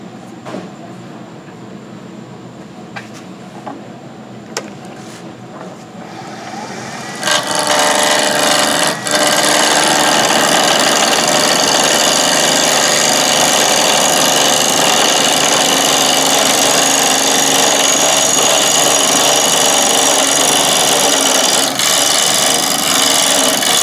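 Wood lathe turning a segmented tri-wing bowl, bogging under the cut: a low mechanical hum jumps into a loud, dense grinding roar with gritty texture that holds steady and continuous, with no voices.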